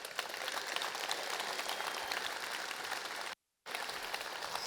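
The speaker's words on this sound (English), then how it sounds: "Give yourselves a round of applause." A live event crowd applauds, a dense, continuous wash of many hands clapping at moderate distance that cuts out abruptly for a moment before resuming.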